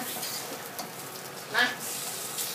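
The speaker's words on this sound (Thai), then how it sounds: "ก็ใส่น้ำมันลงไปผัดให้มันหอมก่อนนะคะ" Ready-made curry paste stir-fried in hot oil for a tuna dried chili relish: a steady close sizzle with a brief louder scrape of stirring partway through.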